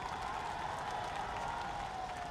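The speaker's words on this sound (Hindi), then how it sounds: "एक बार तालियों की गड़गड़ाहट से माननीय प्रधानमंत्री का स्वागत करें" A large crowd at a Narendra Modi political rally in Nawada, Bihar, applauds to welcome the Prime Minister, giving a steady, dense wash of clapping and crowd noise that holds level for the whole stretch without any clear speech.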